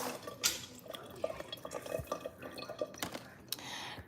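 Liquid drains from a pan in a home kitchen while turkey curry meatballs are cooked, giving a close run of soft drips and trickles with light clinks of cookware, and no one speaking.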